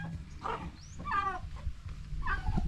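A turkey calls noisily near a backyard poultry area: three rough, warbling vocal bursts close by, separated by short pauses over low background rumble.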